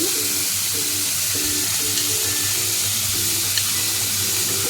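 Chopped tomato, four green chillies and a splash of water sizzle in a hot frying pan over cumin and dried red chilli tempering. The frying hiss is loud and continuous, with faint stirring clinks underneath.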